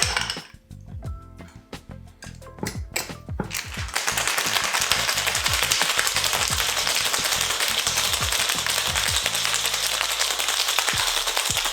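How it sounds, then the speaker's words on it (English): A cocktail shaker full of ice for a chipotle daiquiri clinks as it is filled, then rattles in a fast, loud, continuous shake lasting several seconds. "now we can fill our shaker with ice and give it a good shake for about 10 seconds"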